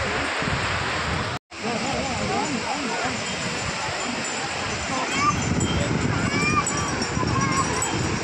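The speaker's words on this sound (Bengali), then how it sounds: "পেছনে যে জলের ঢেউ বন্ধুরা বলে বুঝতে পারছি।" Sea waves wash continuously onto Marina Beach, a steady broadband surf roar with wind buffeting the microphone, briefly cut out near the start, and people talking over it.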